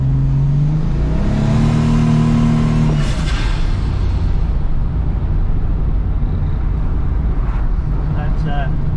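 A turbocharged car running 13 psi of boost on pro street radials accelerates hard from around 60–70 km/h, its engine note rising loudly and then giving way to a steady, roaring drive noise close up.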